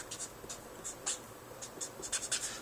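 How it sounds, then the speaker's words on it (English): Pen or marker strokes writing out an economics equation during a lesson, heard as scattered scratchy bursts at a steady, unhurried pace, faint and close with no talk. "let me write that out again for you neatly"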